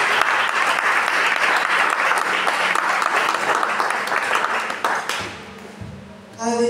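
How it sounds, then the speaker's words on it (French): Congregation at a church service applauding steadily and loudly with scattered voices, the clapping dense throughout before fading out near the end as a low hum remains. "Encourageons-la, acclamons au Seigneur."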